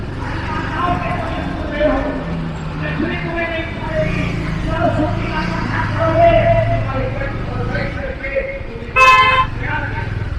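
Trucks and other road traffic roll through an open railway crossing, a steady close engine rumble with a short horn toot near the end, while someone talks over it throughout.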